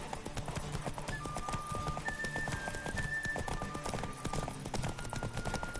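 Horse galloping in The Witcher 3 video game, with rapid rhythmic hoofbeats pounding steadily and close up throughout, while faint tonal game sounds drift over it.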